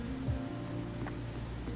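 Steady rain in Stardew Valley patters evenly throughout, with a low hum and faint game tones running underneath.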